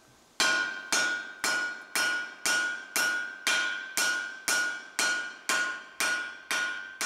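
A blacksmith hammers glowing hot steel while forging an axe, a steady series of about a dozen loud ringing metallic strikes at an even rhythm, each with a bright, slowly fading ring.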